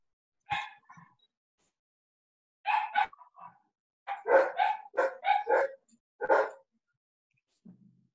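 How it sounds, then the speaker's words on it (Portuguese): Several sharp dog barks in short bursts, some doubled, separated by pauses, fairly close, with a faint low whimper at the end. "Tira os cachorros aí, Vivaldo."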